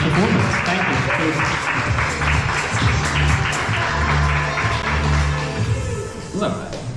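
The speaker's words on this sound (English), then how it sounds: "everyone here, a round of applause for Reese on this first performance" An audience at an Edinburgh specialty coffee barista competition heat applauds, steady clapping mixed with crowd chatter and a person talking over it, with low background music.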